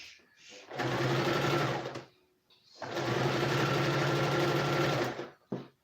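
A sewing machine stitches fabric along a curved back seam in two steady runs of rapid mechanical chatter separated by a brief pause, close and alone without speech.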